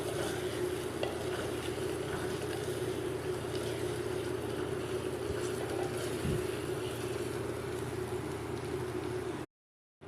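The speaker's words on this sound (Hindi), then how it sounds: "इसको भी इसके साथ फ्राई करेंगे, मसाले के साथ भून लेंगे हम इसमें चिकन को" Half a kilo of chicken fries with spices in a handi, giving a steady dense sizzle and occasional stirring scrapes that run unbroken before cutting out just at the end.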